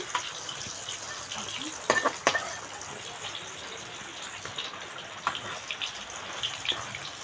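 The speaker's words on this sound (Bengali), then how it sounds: "লাল লাল করে বেগুনিটা ভেজে নিচ্ছি" Eggplant fritters (beguni) frying in hot oil in a kadai, a steady close crackle with a few sharper pops and spatters partway through, carrying on without talk.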